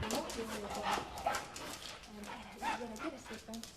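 Dogs with cancer at a university research setting for polarized light treatment bark and whimper in short yelps and whines, mixed in under a person's talking throughout.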